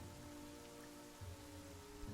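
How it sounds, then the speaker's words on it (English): Steady rain falling in The Banner Saga 2, a continuous even hiss of drops over a low background hum, with no voices. "The darkening sky lets loose its rain"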